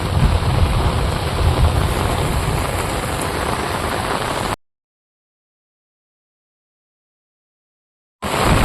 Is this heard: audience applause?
no